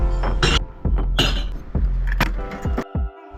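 Glass bottles dropped into outdoor glass recycling bins, a series of loud, close clinks and shattering clatters in quick succession, with no voices.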